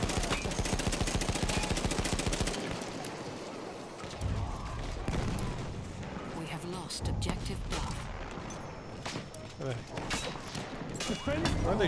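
Rapid gunfire and machine-gun bursts in a Battlefield 1 Conquest match in the Sinai Desert, loud and dense at first, then scattered shots and booms with a voice talking over them.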